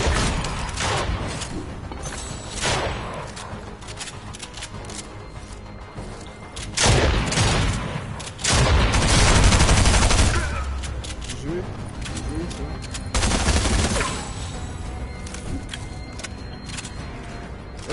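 Gunfire bursts and booms from a PS4 shooter game, with loud clusters of shots and explosions rising and falling over about eighteen seconds amid continuous game noise, with a player talking throughout.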